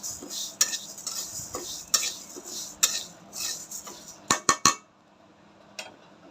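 Lentils being dry-fried in a pan for khichuri, with a spatula scraping and stirring in uneven strokes, then a few sharp metallic clinks before it goes quiet.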